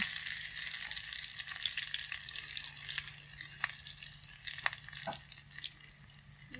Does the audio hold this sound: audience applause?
no